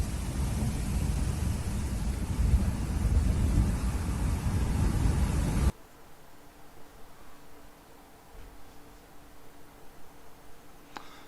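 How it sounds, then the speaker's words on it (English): Major Hurricane Idalia lashing Florida's Nature Coast, loud roaring wind and rain in a dense, continuous rush that cuts off abruptly midway, dropping to a quieter, low rumbling background. "Strong winds hammering the nature coast of Florida here."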